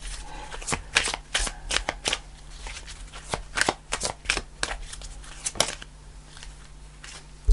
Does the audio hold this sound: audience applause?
no